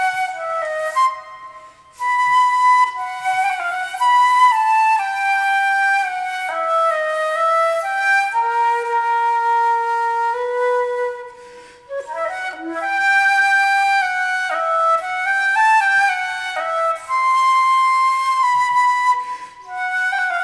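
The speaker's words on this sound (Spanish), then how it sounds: "Ese es el sonido de la flauta." A metal concert flute plays a bright, lyrical melody of sustained and moving notes in a concert hall setting. Solo and continuous for about twenty seconds, with a short breath pause near the start and no talking.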